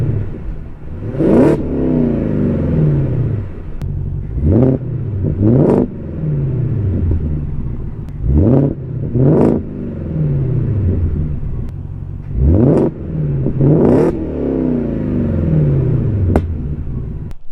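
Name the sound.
Ford F150 Raptor R engine revving in quiet exhaust mode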